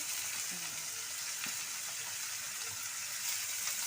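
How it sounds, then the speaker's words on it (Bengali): Carrots and beans fry lightly in a pan for fried rice, an even, hissing sizzle that holds steady throughout with faint clinks in the background. "গাজর আর বিনসটা লাইট করে ভেজে নিতে হবে"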